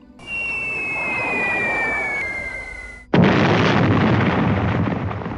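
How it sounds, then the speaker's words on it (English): Bombs from a B-17 Flying Fortress bomb load exploding against a U-boat pen, a sustained loud roaring blast followed by a sharp second detonation that rumbles on, with no voices. "Fingers crossed, the group drops her bomb load."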